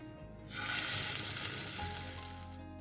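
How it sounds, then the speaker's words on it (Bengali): Crisp sesame fritters dropped into a tablespoon of oil, with a sudden burst of bright sizzling that settles into a steady hiss and then fades. "তুলে নিচ্ছি আমি বড়াগুলো ভাজার জন্য আর সামান্য একটু তেল অ্যাড করছি"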